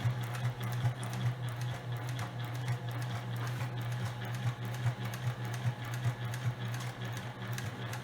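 A sewing machine stitches fabric for a storage box in a steady, fast mechanical whir with an even rapid rhythm and a low hum underneath, close and continuous without pauses.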